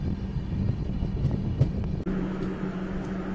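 Konkan Kanya Express train at Vilavade railway station on the Konkan line in monsoon weather, a steady loud rumble and engine drone that holds throughout, with a brief dip midway before a lower hum continues.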